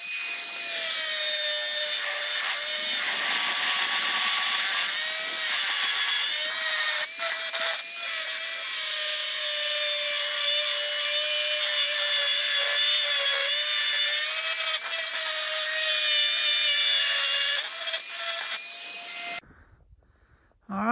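A grinder cuts bolts off a metal salt block carrier in a long, loud, continuous whine that holds steady for nearly twenty seconds, wavering slightly in pitch before cutting off abruptly.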